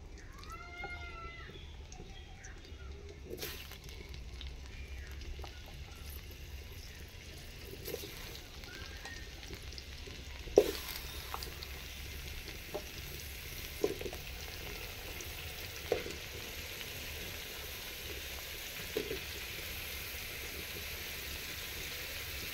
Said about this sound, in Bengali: বন্ধুরা দেখুন, এই বড় বড় কেটেছি কুমড়োটা, এটা একটু হালকা করে ভেজে নেব।